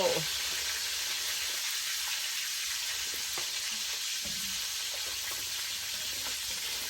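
Climbing perch fry in oil with a constant, moderate hissing sizzle. It carries on evenly for seven seconds, with a few faint clicks and soft background sounds.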